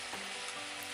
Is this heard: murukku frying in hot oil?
yes